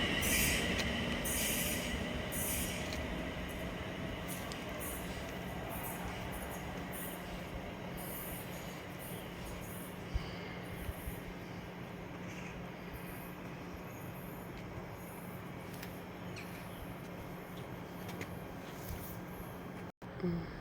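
A Class 350 passenger train on a Crewe to London Euston service runs through Lichfield Trent Valley station, its loud rolling rumble and rail noise sustained throughout, with wheel squeal, faint clicks and a sharp knock near the end.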